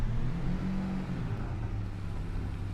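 A car engine revs in Farming Simulator 22, a steady mid-pitched roar and whir as the vehicle accelerates on a farm map, loud and continuous with no speech over it.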